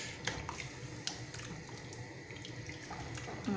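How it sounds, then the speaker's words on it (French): Water poured into a cooking pot for paella-style rice, a steady, soft splashing stream with a few light clinks, faint and close. "Et je vais rajouter encore 500 ml d'eau"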